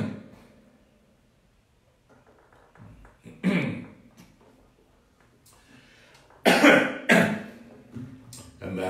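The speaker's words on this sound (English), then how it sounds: "And that was a cough of clearing the throat." A man coughs and clears his throat in a few sharp, close bursts, separated by quiet pauses, in an otherwise calm indoor setting.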